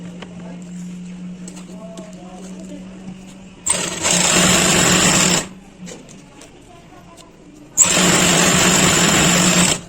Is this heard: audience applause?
no